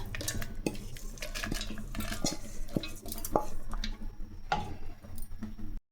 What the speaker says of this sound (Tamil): ஆறிடுச்சு இப்போ மிக்சி ஜாருக்கு மாற்றிக்கலாம்